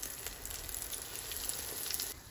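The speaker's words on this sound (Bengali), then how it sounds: "এই যে দেখেন বেগুন ভাজিটা করতে অল্প তেলে কিন্তু ভাজা হয়ে গেছে, খুবই ক্রাঞ্চি হয়েছে।" Eggplant slices coated in cornflour fry in a little oil, giving a steady, close sizzle and crackle with no voices.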